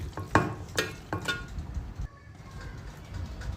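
Chicken dum biryani being stirred by hand in a pot, a few soft scraping and clinking strokes near the start, then a quieter stretch with low background noise.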